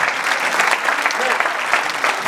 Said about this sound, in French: S'il vous plaît, applaudissez monsieur.